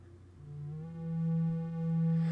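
Pico-8 chiptune sound effect: a steady buzzy synth tone with rich harmonics that slides slowly in pitch, swelling gently in loudness, with no talk.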